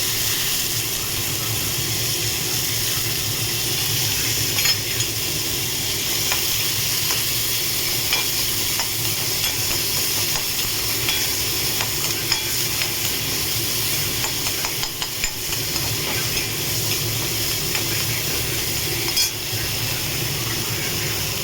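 Garlic and onion frying in hot oil for a Bengali dal with ridge gourd, giving a steady, loud sizzle with hissing steam, occasional stirring scrapes and light clinks of a utensil against the pan throughout.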